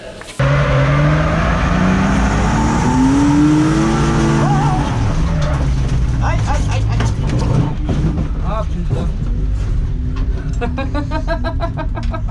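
A BMW 328i E36 drift car's engine revs and pulls away loudly, rising in pitch as it accelerates, then shifting and fading amid tire noise, with people talking over it.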